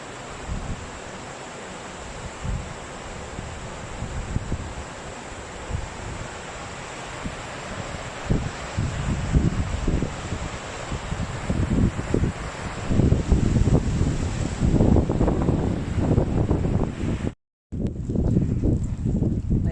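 Strong wind gusting during heavy snowfall on a street in Kanagawa, Japan, a steady broadband roar that builds in force over the second half, with one brief dropout near the end.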